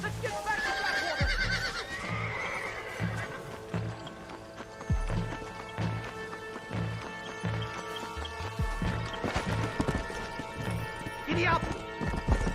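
A horse gallops in the Red Dead Redemption video game, with rapid rhythmic hoofbeats and whinnies under a swelling orchestral score and game effects.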